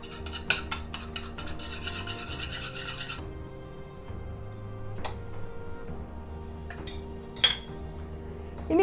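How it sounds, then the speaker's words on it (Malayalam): Quick rhythmic clinking and scraping of a utensil in a bowl as an egg is beaten with a little salt, then quieter stirring and occasional taps over soft background music. "ഇനി നമ്മൾ ചെയ്യേണ്ടത് ഒരു മുട്ട എടുക്കുക, അത് നന്നായിട്ടൊന്ന് ബീറ്റ് ചെയ്യുക."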